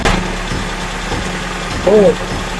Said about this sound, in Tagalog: Pakita mo muna makina natin.